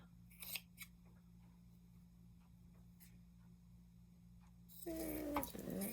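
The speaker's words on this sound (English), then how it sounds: "So I'm going to take these longer ones and cut them into pieces" Scissors cut longer strips into small random pieces: a few faint, sparse snips at first, then a louder, denser run of cutting close by at the end.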